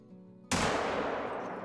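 A single loud 7mm hunting rifle shot in theHunter: Call of the Wild cracks sharply out of a quiet outdoor ambience, then rolls away in a long echoing tail.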